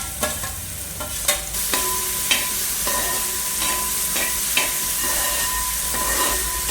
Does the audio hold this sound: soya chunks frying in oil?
yes